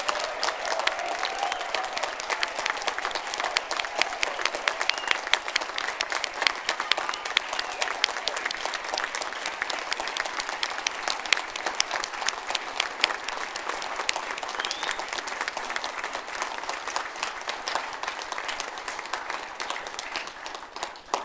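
A large graduation ceremony audience at Charles Sturt University applauds the new graduates, sustained dense clapping from many hands that holds steady and then tapers off at the end.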